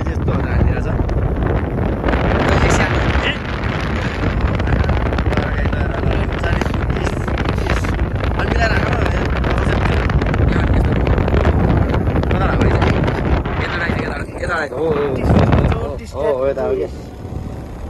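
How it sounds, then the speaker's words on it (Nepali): Strong wind buffets a phone's microphone at night in Dubai in a loud, continuous rumbling roar, and voices briefly break through near the end. "अब मोबाइलमा यस्तो हावाले हान्छ नि"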